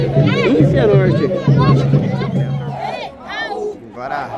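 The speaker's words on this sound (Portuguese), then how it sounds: "Agora a torcida do Cianorte pegando no pé do Raul." Cianorte football supporters heckling a player in a stadium, a chanting, jeering crowd roar that swells and dips, with a commentator's voice over it.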